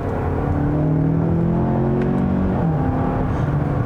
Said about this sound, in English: It's a really great torquey engine